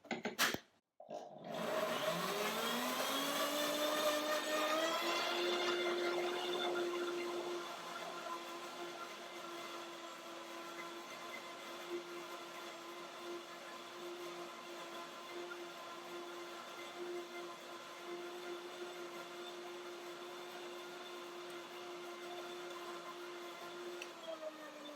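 Blender whirring through lemony banana yogurt: a sharp start, then a steady motor hum that settles into a quieter even drone, with no voices.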